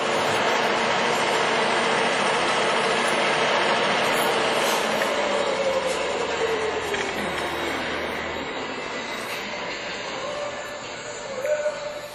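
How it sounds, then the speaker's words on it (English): A compact 3.5-inch horizontal boring mill runs at 46 RPM, giving a loud, steady mechanical drone and hum that eases slightly toward the end, with a faint swell near the close. "So this is basically a pint-sized horizontal boring mill."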